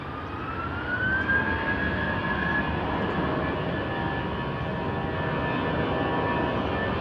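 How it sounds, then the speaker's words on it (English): Fixed-wing aircraft taking off from the runway at Gibraltar, heard from high up at the castle: a steady, loud jet engine roar with a rising whine, sustained throughout at moderate distance. "I ran all the way to the top of the castle here to watch an aeroplane take off"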